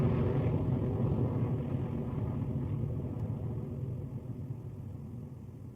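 A Rocket Lab Electron rocket lifts off with a deep, steady, broadband roar that slowly fades as it climbs away.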